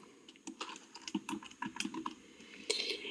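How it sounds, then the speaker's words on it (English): Quick irregular clicks of a computer keyboard being typed on, close and crisp, in bursts with brief pauses and a louder flurry near the end. "and just start typing"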